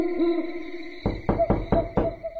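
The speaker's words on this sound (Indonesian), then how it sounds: "Kayaknya ada yang ngetok-ketok gerbang itu di sana." Someone knocking on a closed gate: five firm, evenly spaced knocks in quick succession, preceded by a steady tonal hooting sound that continues faintly under the knocks.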